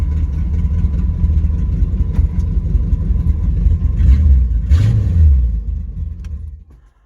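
A 1968 Ford LTD with a 428 V8 runs and drives, its loud, steady engine rumble rising briefly in a rev near the end before fading away, with no talking.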